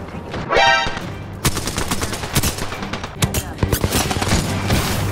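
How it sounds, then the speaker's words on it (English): Rapid automatic gunfire in a battle royale video game, dense bursts of shots close by following a short rising whoosh, with a player's voice talking over parts of it. "Okay, I'm getting shot from behind."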